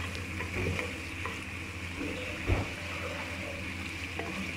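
Goat trotters fry in a pot with a steady, close sizzle, broken by occasional scraping stirs and one louder clunk midway, and no voices.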